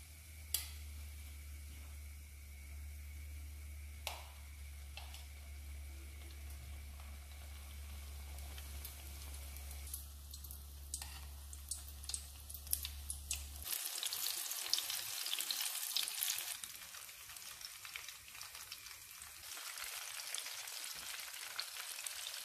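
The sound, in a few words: fritters frying in hot peanut oil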